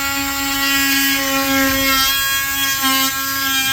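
Power tool cutting a hole in drywall to reach a leaking bathtub, a steady high-pitched whine held at close range for the whole stretch, with a slight dip in pitch near the end.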